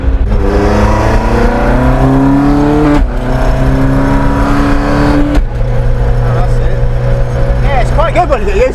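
A Morris Minor's engine roars loudly inside the car while driving, a continuous droning rumble with rising and falling revs through gear changes and wind noise, and nobody speaks over it.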